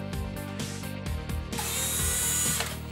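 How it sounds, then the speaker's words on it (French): A power drill fitted with an 8 mm bit bores into a wall, heard close and loud in short bursts of revving with brief pauses, then one longer continuous burst of grinding. No voices are heard. "À l'aide d'une mèche de 8, percez le mur et posez des chevilles correspondant au matériau."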